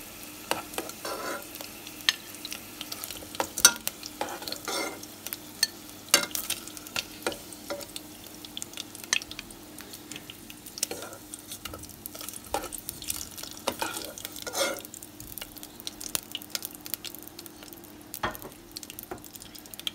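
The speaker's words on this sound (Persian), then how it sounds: "داخل سرخ میکنیم و بعد توی سس اصلی میریم" Beef fillet frying in oil in a pan, giving a steady low sizzle with scattered crackles and pops throughout, close by with no talking.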